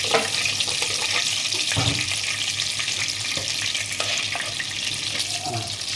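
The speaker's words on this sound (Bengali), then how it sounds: "চিংড়ি মাছগুলো আমার সাতলানো হয়ে গেছে তেল দিচ্ছি আমি একটু দিচ্ছি" Prawns sizzling in oil in a pan while cooking for a prawn pulao, a dense continuous crackle with a few clinks and stirring knocks, no voices.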